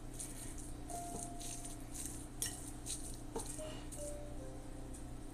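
Roasted butternut squash being mashed in a big bowl, faint soft taps and scrapes of a utensil repeating every half second or so against a quiet background, no talk.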